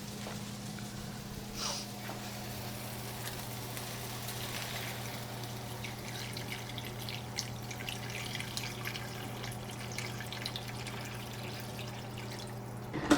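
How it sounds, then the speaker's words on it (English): Three cups of water poured into a soup pot of caldo de carne con papas, a steady soft pouring and splashing flow with a low hum behind it, no voices. "So I'm going to go ahead and add the 3 cups of water."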